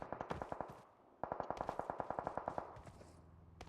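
An MG3 machine gun firing in the battle game BGMI: two rapid automatic bursts of sharp, evenly spaced shots, the first short and the second longer and louder, with a brief pause between them.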